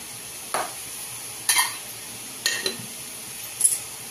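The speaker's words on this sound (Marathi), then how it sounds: "मीठ टाकलं की परत हलवून घ्यायची भाजी." Amaranth greens being stirred in a pan after salt is added, four separate scraping strokes of a utensil against the pan spaced about a second apart, close and clear over a faint background hiss with no talking.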